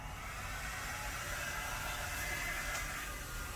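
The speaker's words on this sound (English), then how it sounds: "I don't know if my little hand blow dryer is strong enough." A small handheld blow dryer runs continuously, a steady airy whir, used to blow out wet acrylic pour paint on a canvas; moderately close with no voices.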